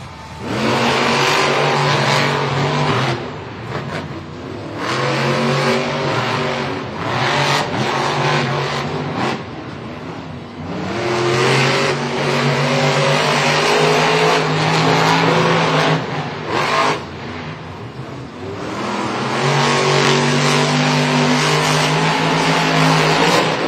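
Monster trucks race in a stadium at a Monster Jam event in Philadelphia, with loud roaring engines that rev and surge repeatedly, tire squeals and skids over a continuous crowd-filled backdrop.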